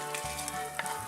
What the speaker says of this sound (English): When ghee gets hot, add cumin seeds and bay leaf